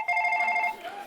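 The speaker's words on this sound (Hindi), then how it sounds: "ग्राहक के फोन भी आने शुरू हो गए हैं।" Telephone ringing with a bright repeated electronic trill, fairly close and clear, lasting most of the moment before a voice starts to come in near the end.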